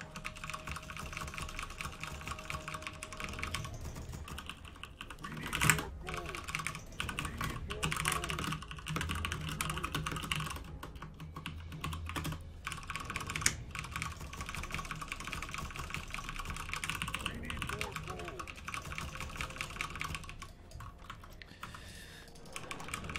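Continuous rapid clicking of a mechanical keyboard with brown switches, played back under steady game sound and background hum during a Warcraft 3 session, fairly faint and dense throughout.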